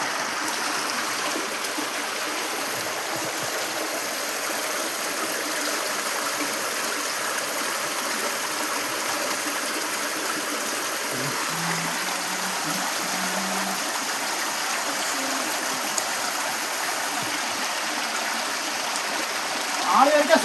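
A shallow stream, now running low, flows steadily throughout as a continuous soft wash of water, with a few faint low background sounds partway through.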